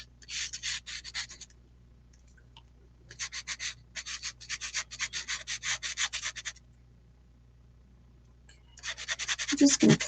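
A pastel pencil held on its side rubs across paper while shading feathers on a bird drawing, giving soft, close, rhythmic scratchy strokes in several bursts separated by quiet pauses.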